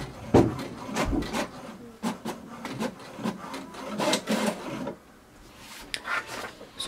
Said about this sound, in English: just wait for the printer to print the report